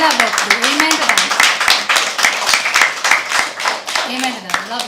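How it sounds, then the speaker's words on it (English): Audience at a live poetry open mic clapping after a reading, close, rhythmic and fairly loud, while a voice talks over the applause throughout. "Please, another round of applause."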